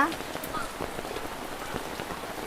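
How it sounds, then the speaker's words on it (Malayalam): Heavy rain pounds down on a nearby surface in a dense, steady patter of drops that continues without a break. "എന്താ ഒരു മഴ"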